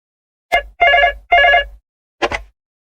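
A telephone rings in four short bursts: a brief first trill, two longer even rings, then a shorter final burst, all loud and close with silence in between and no voices.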